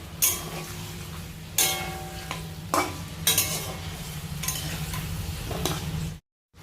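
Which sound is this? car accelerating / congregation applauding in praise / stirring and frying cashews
stirring and frying cashews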